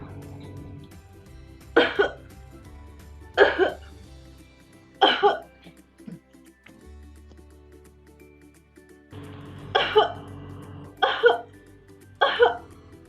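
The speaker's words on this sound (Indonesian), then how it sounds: "aku batuk terus." Six sharp coughs in two groups, each a short harsh burst with pauses between, fairly close over a low steady background hum.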